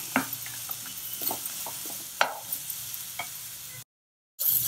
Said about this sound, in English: Stir fry it for a few minutes.